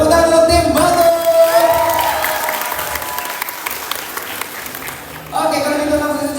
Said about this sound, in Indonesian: Tepuk tangan untuk tim Batul.